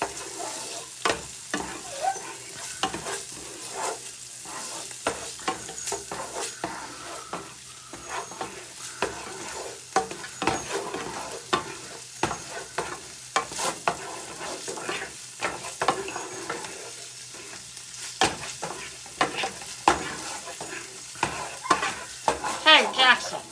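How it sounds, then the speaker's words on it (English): Food being stirred in a hot pan: repeated scraping and clattering strokes of a utensil over a constant sizzle, close and fairly loud, with no talk. "I'm kind of mix this all up here."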